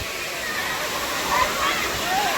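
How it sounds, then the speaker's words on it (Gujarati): Clear water of a hill stream rushes down into a waterfall in Dharampur, a steady broadband roar of flowing and splashing water heard close by, continuous and even throughout. "ચોખ્ખું પાણી જાય છે ધોધમાં"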